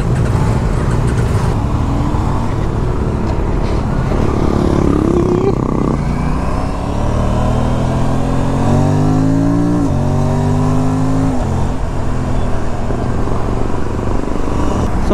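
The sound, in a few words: group of RS 457 motorcycles and four-cylinder superbikes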